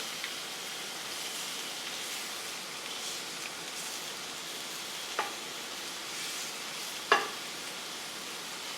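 Food frying in a hot pan over open flame, a faint steady sizzle with a couple of brief sharp crackles partway through.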